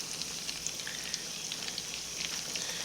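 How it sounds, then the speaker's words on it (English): Steady sizzling of catfish nuggets frying in hot oil, a constant crackly hiss with small pops, fairly quiet and close, no voices. "Letting them fry"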